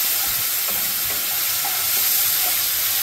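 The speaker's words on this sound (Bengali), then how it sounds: "দিয়ে মশলাটা ভালোভাবে কষাবো" Spice masala with turmeric, grated ginger and a splash of water is sautéed in a pan, producing a loud, steady, close-up sizzling hiss with faint stirring scrapes throughout.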